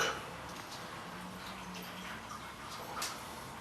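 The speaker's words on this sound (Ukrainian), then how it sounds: "Наливаємо чайочок." Freshly brewed tea poured from a pot into a cup, a steady close trickle of liquid with faint splashing that holds at an even level throughout.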